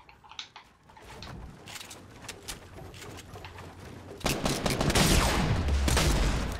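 Gunfire erupts in a Fortnite fight: scattered sharp shots at first, then a dense, loud burst of rapid fire from about four seconds onward, with faint cooing bird-like game sounds early on.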